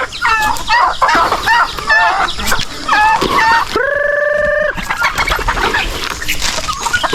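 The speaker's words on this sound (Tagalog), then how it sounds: "Nandiyan ah, yung ating pabo at gansa." Turkeys and geese call close by in repeated, rapid clucks and gobble-like bursts, with one long honking call in the middle.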